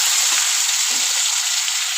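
Tomato and green chillies frying in a pan with a fish head already frying make a loud, steady hiss of sizzling oil, heard up close with faint stirring bumps.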